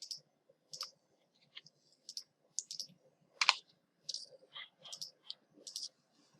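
Sharp, quiet mouse clicks in irregular single and double bursts, separated by near silence, as settings are clicked in GeoGebra on a computer.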